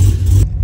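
A car engine fitted with a newly installed exhaust gives a steady, loud, low rumble close by, running alone with no voices.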